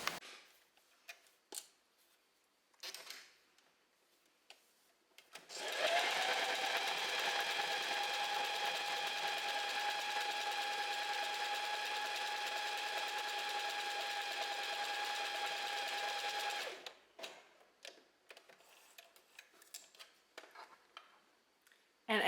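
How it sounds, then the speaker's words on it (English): A domestic sewing machine test-sews jersey fabric on a stretch stitch in one steady, loud run of about eleven seconds, with quieter handling and clicks before and after. "I'm just going to do some test sewing and see how the tension is"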